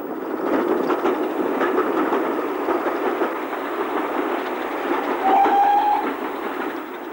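A steam train runs on the Somerset and Dorset railway near Evercreech Junction, with a steady rolling rumble and rhythmic clatter of wheels, and a thin whistle-like tone briefly rising near the end.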